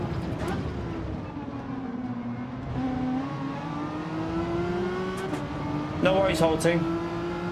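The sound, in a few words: Citroen race car engine in Gran Turismo 7 video game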